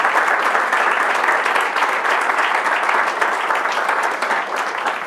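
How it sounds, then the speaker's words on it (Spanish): An audience at a conference applauds an incoming speaker, producing a steady, thick wash of clapping from many hands that stays loud and even for about five seconds without pause. "Un aplauso para Fabrice, por favor."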